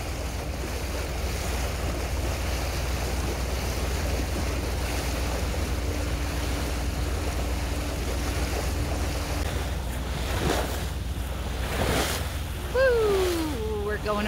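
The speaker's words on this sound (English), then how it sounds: "going over some wake right now" A boat on an industrial stretch of river crosses wake, bringing a steady rush of wind and water with a few heavier splashes and bumps toward the end, and a voice briefly speaking.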